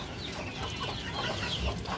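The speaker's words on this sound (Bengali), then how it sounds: "আর এই খাঁচার ভিতরে আছে কিছু রানিং ডিম পাড়া মুরগি" Egg-laying hens clucking inside a cage on a rooftop farm, a steady low murmur of soft clucks running continuously at close range with no talk.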